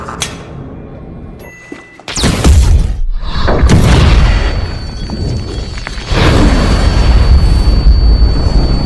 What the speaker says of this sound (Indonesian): Dan dengan meledakkan sebuah gas, Michael juga berhasil membasmi satu lagi mafia tersebut